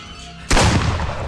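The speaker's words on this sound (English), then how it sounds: "I'm gonna shoot him" Single loud gunshot in Friday the 13th: The Game, a sharp close blast after a quiet moment, followed by a short rumbling tail.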